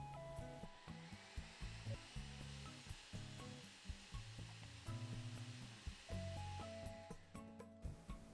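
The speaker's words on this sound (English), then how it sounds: "We blend that all up, and you're going to get a pretty thick mixture" A blender whirs steadily with a loud, grinding hum as it purees thick gluten-free banana muffin batter, with the motor pitch wavering as the dense mixture churns.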